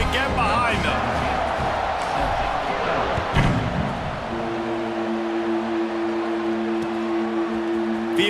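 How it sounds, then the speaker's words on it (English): A stadium crowd in a college football video game roars and cheers around a kickoff, with a thud partway through and a steady sustained tone afterward, under a commentator's voice. "this crowd now ready to get behind them"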